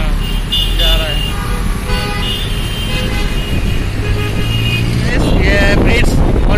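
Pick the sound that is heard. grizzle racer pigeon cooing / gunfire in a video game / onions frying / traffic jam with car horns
traffic jam with car horns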